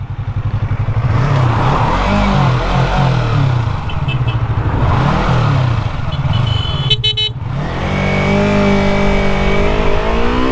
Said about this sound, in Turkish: Şu an konvoy geliyor.